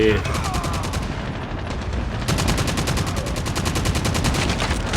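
Rapid automatic gunfire from the mobile shooter Call of Duty Mobile during a Gun Game team fight, a loud, steady rattle of closely spaced shots running almost unbroken through the clip, with a brief voice near the start.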